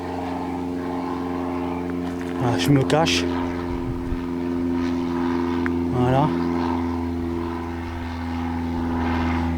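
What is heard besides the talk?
airplanes flying overhead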